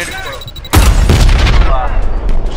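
A grenade blast in the first-person shooter Trepang2 lands as a sudden loud boom, followed by a rumbling burst of gunfire and debris. Someone talks over it.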